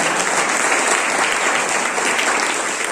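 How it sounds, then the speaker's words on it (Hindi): Loud, sustained applause from a crowd at a national tour event at Jim Corbett National Park, Uttarakhand, dense clapping that continues evenly throughout. "जोरदार ताली होना चाहिए।"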